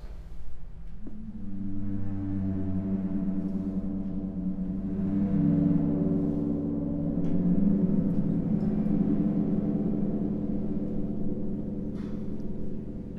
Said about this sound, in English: using a super ball on a stick to make sounds like this